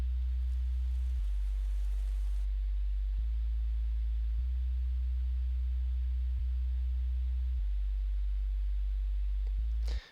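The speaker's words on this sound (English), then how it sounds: "to really start the track, the sub bass" A mono sub bass synth from FL Studio's 3x Osc, run through a compressor and heavily boosted, plays deep sustained notes that change pitch every second or so, loud and alone over faint hiss.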